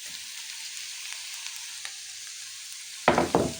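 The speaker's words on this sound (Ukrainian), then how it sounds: "Жаримо цибульку до готовності. Добавимо туди морковки." Onion frying in a pan with carrot being added: a steady soft sizzle, then two loud bursts of crackling as the carrot hits the hot oil near the end, nobody speaking.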